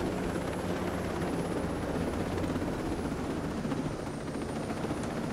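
A helicopter in the video game Ghost Recon Breakpoint flies with a steady, loud rotor and engine roar that holds constant throughout, with no talk over it.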